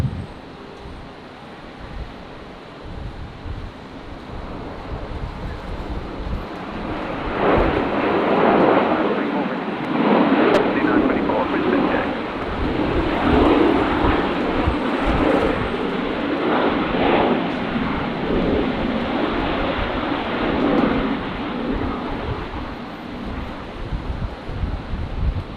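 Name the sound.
Rex airliner arriving from Melbourne, landing on runway 19 left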